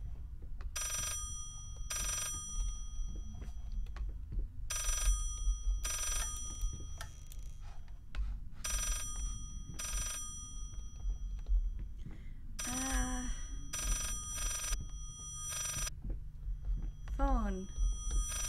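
Telephone ringing in the horror video game Layers of Fear, repeated rhythmic bursts of bright electronic ringing across the whole stretch over a low rumbling background, with a voice speaking briefly in between.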